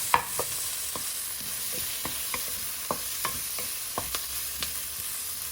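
Onions, ginger, garlic and spices roast in a pan for a green tomato sabji. A soft continuous sizzle runs beneath evenly spaced scraping taps of a spoon against the pan.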